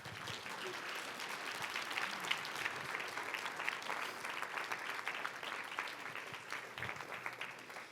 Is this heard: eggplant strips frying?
no